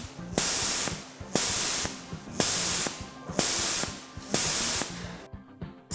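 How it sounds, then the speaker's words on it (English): Compressed air hisses from the overpressure valve of a FAR KJ45S tool during a pressure test above 8 bar, in five sharp, loud bursts of roughly a second each, evenly spaced, then stopping. "then increase it progressively up to more than 8 bar to check the overpressure valve startup"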